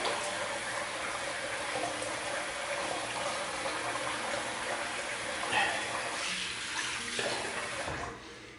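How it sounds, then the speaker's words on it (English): Water runs steadily from a tap in a continuous broadband rush during a wet shave, easing off near the end. "And I'll just put a bit more water on."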